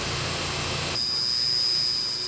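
Two Deutz engines, 175 kW and 145 kW, powering a building's closed-loop heating and cooling system, give a loud, steady, continuous roar with a high whine heard close up.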